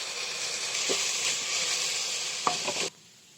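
Steady frying sizzle of spices in a pan over medium-low gas heat, with a couple of faint utensil taps, cutting off abruptly near the end.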